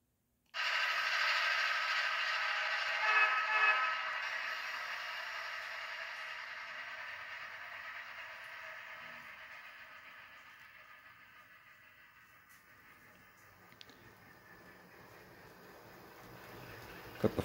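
Model train locomotive 454 pulls a short passenger consist on a home layout, a steady whirring motor and rail rumble that starts abruptly, then slowly fades with a few small clicks.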